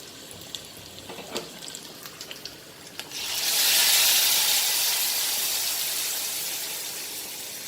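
Tempering sizzles loudly into mango mustard masala curry, a sudden broad hissing burst that swells after a few seconds of quiet kitchen clatter and then slowly fades.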